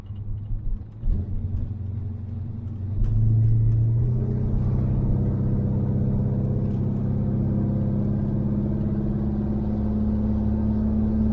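A vehicle passing at night on a dark road near a 1985 Chevrolet Silverado K20 4x4, a low engine rumble that swells and holds steady, close and loud, with no talking.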